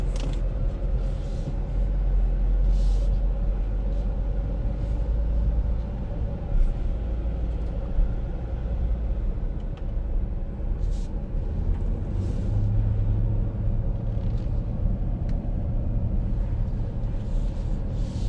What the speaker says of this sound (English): Alright, so let's go for a little drive.